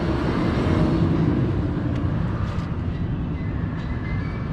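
Roller coaster train at Kings Dominion running on its track after a lightning delay, a continuous moderate rumble and rattle from a distance with faint higher squeaks, no talk.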